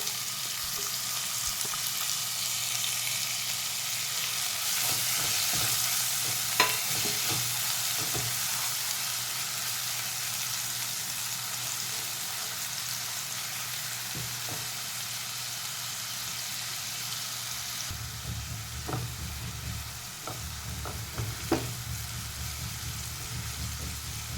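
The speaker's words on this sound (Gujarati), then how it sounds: "અને જીરું થાય એટલે ડુંગળી એડ કરી દઈશું" Onion frying with cumin seeds in hot oil in a pan, a constant close sizzle that shifts in tone partway through, with scattered clicks and light stirring.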